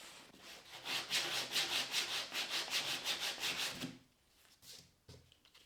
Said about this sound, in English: So our template is all sanded and I'm happy with the shape.